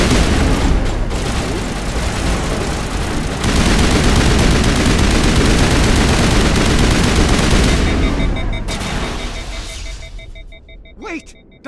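Rapid bursts of automatic gunfire and booming shots in the sci-fi game Mass Effect, loud and continuous for most of the stretch before tapering off, with a voice briefly heard near the end.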